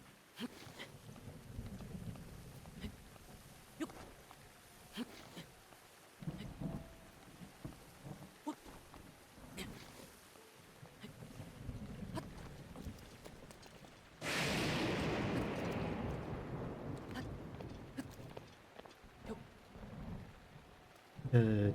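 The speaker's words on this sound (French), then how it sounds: "Alors là, de toute manière, il pleut systématiquement." Steady rain hiss in Zelda: Breath of the Wild, on the Thunder Plateau, runs under scattered game sounds, then a louder, denser burst of downpour takes over near the end.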